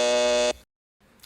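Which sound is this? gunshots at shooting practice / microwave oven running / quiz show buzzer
quiz show buzzer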